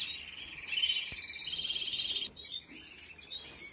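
A small bird gives a fast, thin run of high chirps while being ringed, then a few fainter calls follow after a pause, close and quiet, with no talking.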